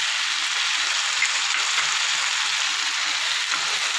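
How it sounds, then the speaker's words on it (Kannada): Drumsticks (moringa pods) fry in a pan with tomato, giving a steady, bright hiss of sizzling oil, even and continuous throughout with no talking. "ನುಗ್ಗೆಕಾಯಿ ಹಾಕಿ ಸ್ವಲ್ಪ ಫ್ರೈ"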